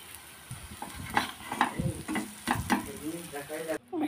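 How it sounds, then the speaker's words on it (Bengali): Jackfruit seed and potato lentil fritters fry in hot oil, a close crackling sizzle broken by repeated spatula or utensil knocks and scrapes against the pan, with a short gap before the hiss resumes. "কাঁঠাল বীজ, আলু, এই যে বড়া সবগুলো ভাজা হয়ে গেল।"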